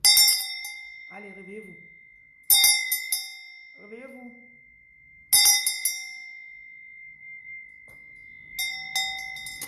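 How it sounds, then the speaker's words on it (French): A powerful bell struck three times at roughly even intervals, each strike ringing bright and loud with a long sustained tone, as someone speaks between the strikes. "Mais la cloche est puissante."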